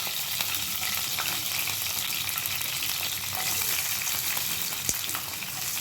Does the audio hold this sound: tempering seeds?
yes